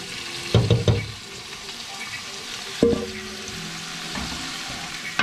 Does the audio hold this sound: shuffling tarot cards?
no